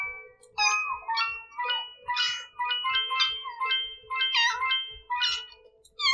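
A kitten in the game Kitten'd meows repeatedly in short, high, chirpy cries, about a dozen in quick succession, close and clear over a low, steady background hum.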